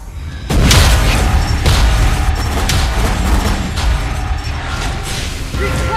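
A turret being destroyed in a mobile battle arena game, heard as a loud, dense wash of booming blasts and crackling effects that stays dense for several seconds, with a thump right at the start.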